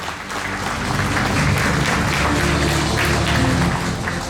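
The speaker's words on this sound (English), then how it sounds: "This selfless support deserves a special round of applause, please, once again." Dense, loud audience applause fills the room from start to finish, a steady wash of many hands clapping at close range with no talk over it.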